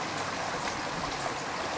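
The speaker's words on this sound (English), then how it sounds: "river sounds," A river stream flows in a steady, even rush of water, soft and continuous with no other sounds or voices.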